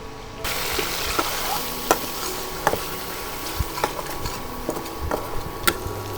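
Ground turmeric, coriander, cumin and Kashmiri chili powder frying with ginger and green chili paste in a pan, a steady low sizzle broken by sharp clicks and scrapes of stirring, close and fairly quiet.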